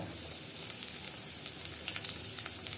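Cumin seeds, split lentils including chana dal, and dried red chillies crackle in hot oil during tempering for mint rice. The sizzle is steady and close, with fine popping spatters throughout and no voices.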